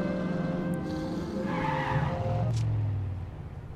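A car in the video game The Saboteur skids with squealing tires and revs as it accelerates, the engine and tire noise fairly loud and continuous before easing off near the end.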